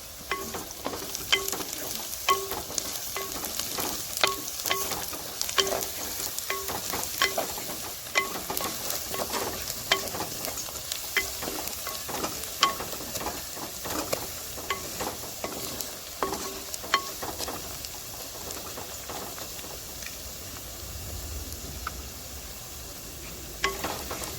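Onions fry in a pan for gongura mutton curry, a continuous soft sizzle broken by frequent ladle scrapes and taps against the vessel, steady and close throughout.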